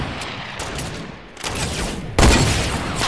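Gunfire in a Fortnite battle royale match, with distant crackling shots scattered through the opening and then a sudden loud, sharp volley close by near the end.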